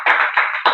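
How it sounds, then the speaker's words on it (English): Audience applause at a conference, a dense burst of clapping from a crowd that swells, dips and surges again in short waves, close and fairly loud with no talking over it. "let's give an applause to her."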